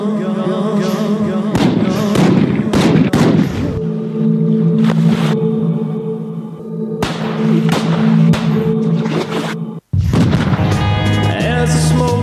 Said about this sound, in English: A clip there with plenty of gunshots